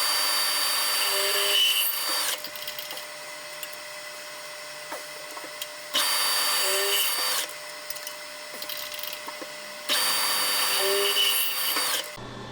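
A power drill boring holes in metal tubs for a 1970 Chevrolet Nova, heard in three loud sustained whirring runs of about two seconds each, separated by quieter pauses.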